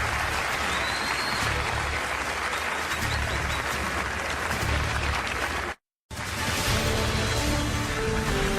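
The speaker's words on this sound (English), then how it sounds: "Please give some applause to the candidates." Sustained audience applause fills a televised Republican presidential debate hall for the candidates, loud, steady and dense, with one brief dropout near the end before the clapping resumes.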